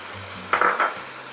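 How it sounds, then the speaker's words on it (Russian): Fried meat with bell pepper and tomatoes stirred in a pan, giving a short burst of scraping and sizzling in the middle, with a quiet background before and after. "Все это хорошо перемешиваем."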